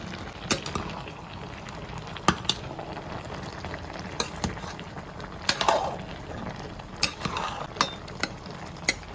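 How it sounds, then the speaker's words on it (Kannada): Colocasia stems cooking with salt in a pot, giving a soft continuous simmer and bubbling with occasional sharp clinks of a utensil against the pan, moderately faint and steady with no talk. "ಸ್ವಲ್ಪ ಉಪ್ಪನ್ನು ಹಾಕಿ ಪುನಃ ಬೇಯಲಿಕ್ಕೆ ಇಡ್ತಾ ಇದ್ದೇನೆ"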